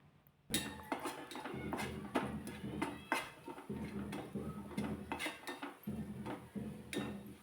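Leftover masala stuffing being stirred and sautéed in a pan, with a utensil repeatedly scraping and clinking against the metal in uneven strokes, close and fairly quiet, with no one talking.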